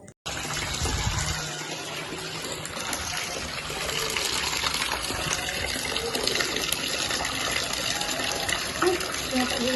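River water rushes steadily while clothes are washed at the riverbank, a loud, continuous gushing wash filling the whole stretch without a break.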